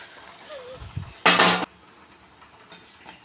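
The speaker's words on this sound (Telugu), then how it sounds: "ఈ బ్రెడ్ ముక్కలు అనేది దాంట్లోకి వేసుకోవాలి ఇలా అన్నీ వేసేసుకోవాలి" Bread pieces for bread halwa tipped into a cooking pan, giving one loud clattering burst of about half a second, with lighter clinks of utensil against metal before and after, and no talk.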